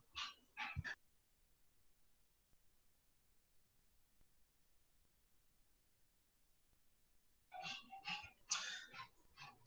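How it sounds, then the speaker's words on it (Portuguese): Dogs bark and yip in short excited bursts, a quick cluster at the start, then a longer noisy flurry after a stretch of quiet. "Só um pouquinho que os cachorros aqui estão fazendo a festa."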